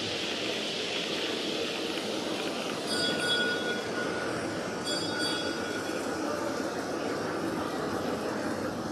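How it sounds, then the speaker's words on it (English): A model train runs past on a club layout, a steady close rolling rumble with faint metallic squeals and clinks, continuous throughout with no talking. "Try and put the camera down when there's a train coming by."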